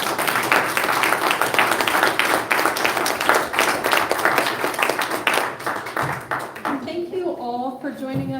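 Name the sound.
audience applause at debate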